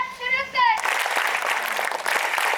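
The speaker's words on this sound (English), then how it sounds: "NCC clap, शुरू" NCC cadets at a Sainik School Toastmasters club event break into dense, steady applause after a brief spoken announcement, the clapping carrying on evenly to the end.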